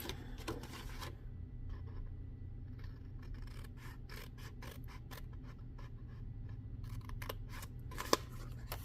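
Scissors slicing a strip off a sheet of paper while making a box: a run of crisp, snipping cuts close by, fairly quiet, with one sharper snap near the end and no talking.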